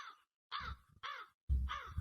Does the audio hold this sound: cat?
no